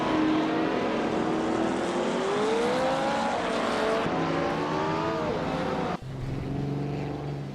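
A 1966 McLaren M1B race car engine in a racing game howls loudly, its pitch climbing and dropping through gear changes as it revs, with another engine tone cutting in near the end.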